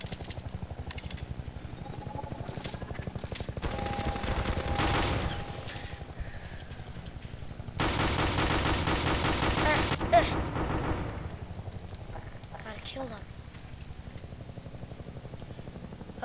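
Automatic weapon fire in the Garry's Mod video game: two long, loud rapid-fire bursts, plus a few short scattered shots, near and dominant, with a person talking in between.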